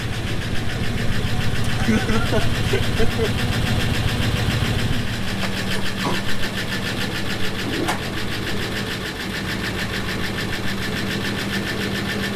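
Land Rover Discovery 1 engine idling with a steady low rumble throughout, loudest in the first few seconds, with a brief voice over it.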